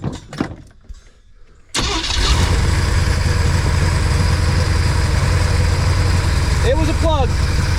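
A van engine fitted with headers, just back from a spark plug change, cranks briefly after some faint rustling, catches and settles into a loud, steady, close idle, with a few squeaky chirps near the end.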